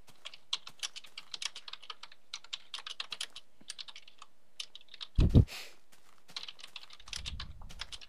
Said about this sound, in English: What are you typing in?